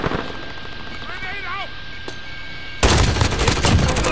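Grau 5.56 rifle fire in Call of Duty Modern Warfare, a dense, loud rattle of rapid shots that bursts in suddenly after a quieter stretch of game ambience and continues to the end.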